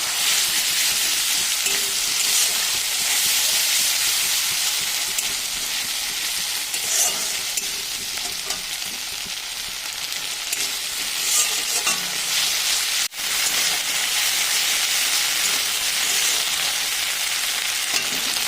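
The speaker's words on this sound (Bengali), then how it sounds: "পেঁয়াজ ভাজা হয়ে গেছে, দিয়ে দিচ্ছি আদা রসুন জিরে লঙ্কা একসাথে বাটা" Ginger, garlic, cumin and chili paste fries with onions in a pan for a lentil-fritter curry, giving a steady, loud, close sizzle with faint stirring scrapes throughout and one brief dropout near the end.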